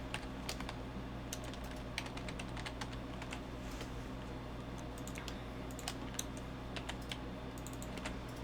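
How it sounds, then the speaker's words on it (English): Steady typing on a computer keyboard while entering code, a continuous run of quick, uneven clicks at close range with no pauses and no talking. "let's go ahead and type this out real quick."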